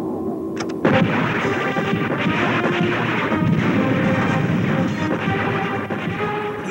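Spaceship gun turret firing in an animated space show, a sudden loud blast followed by a dense, sustained roar of crashing, rumbling barrage with no voices.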